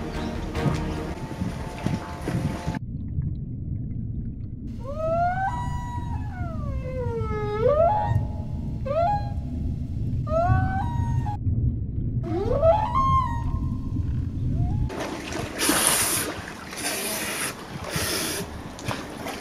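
Muffled underwater ambience in the survival game Bermuda: Lost Survival, a steady low rumble with repeated whale-like tonal calls rising and falling, ending in a louder splashy burst as the diver surfaces.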